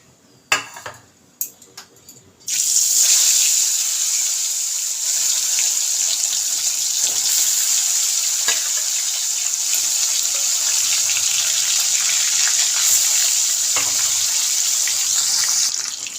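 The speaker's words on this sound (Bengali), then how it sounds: "তেলটা গরম হয়ে গেছে, এখন আমি মাছটা ছেড়ে দেবো।" Marinated fish dropped into hot oil in a kadai: after a few quiet clinks, a loud, sudden burst of bubbling sizzle starts and holds steady, close and intense, until the end.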